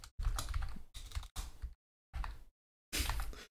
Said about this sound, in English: I'm going to type in, instead of going random, I'm going to type in something specific.